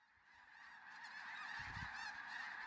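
Cranes call at the Bosque del Apache wildlife refuge, a distant flock giving overlapping trumpeting, honking cries that build gradually in volume.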